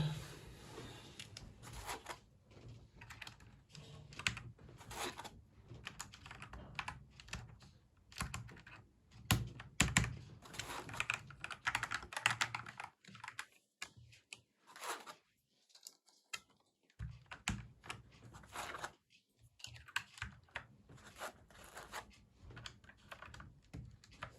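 Rapid typing on a self-built mechanical keyboard fitted with quiet optical switches, with dense bursts of clicks and clacks broken by brief pauses, close and clear with no talking.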